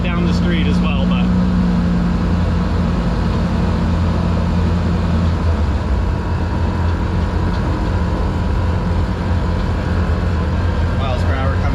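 A 1989 Batmobile car is driven with a loud, continuous engine rumble and road noise close by, steady throughout with a faint voice under it.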